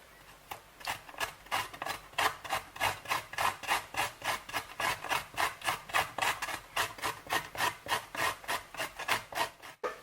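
Fresh deshelled coconut flesh is grated by hand, a steady rhythmic rasping of quick, even back-and-forth scrapes, close and fairly loud, repeating without pause through the whole stretch with no talking.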